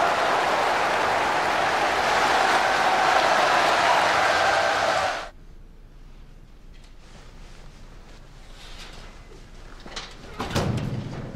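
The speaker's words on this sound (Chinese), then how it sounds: "让我们再次以热烈的掌声送给他们" A studio audience at a televised show breaks into dense, sustained applause that cuts off abruptly midway, leaving a quiet room with faint shuffling and a soft knock near the end.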